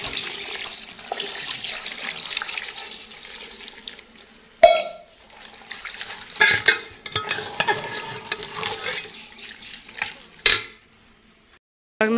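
A cup of water poured into a cooking pot with chopped chillies in it, a close splashing run of liquid followed by a few sharp clanks and stirring sounds, then quiet near the end.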